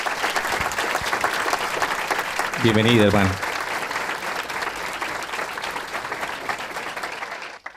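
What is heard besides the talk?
applause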